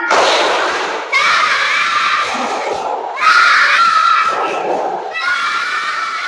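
Third-grade schoolchildren in an elementary classroom perform the tepuk semangat clapping chant, loud group shouting and chanting in bursts with claps, close and energetic.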